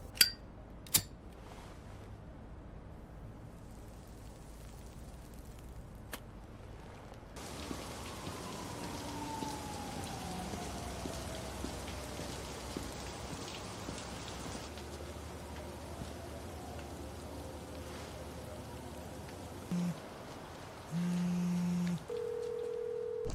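Steady rain falls through a moody night detective scene, a continuous hiss of drops on surfaces that swells slightly after the first few seconds, with a few sharp clicks early and telephone-like tones near the end.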